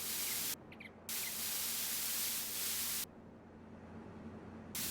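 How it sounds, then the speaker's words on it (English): A spray paint can hisses in Farming Simulator 22, loud bursts of spraying that cut off briefly and start again, with nobody talking. "It sounds like spray paint."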